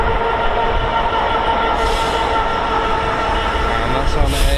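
Class 66 locomotive 66090 hauling a Maritime intermodal freight train on the East Coast Main Line, a loud close rumble of engine and rolling wagons with wheel squeal and rattling throughout.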